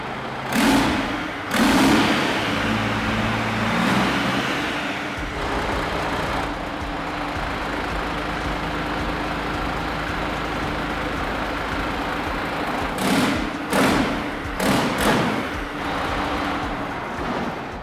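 Citroën HY van engine cranking to life and settling into a low, steady idle, with a few louder bursts and clunks near the start and toward the end.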